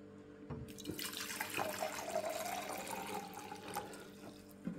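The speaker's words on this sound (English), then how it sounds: "So again, distilled water in there." Distilled water pours into a container in a steady, continuous splashing trickle, close and moderately quiet, starting with a brief clunk and ending with a small knock.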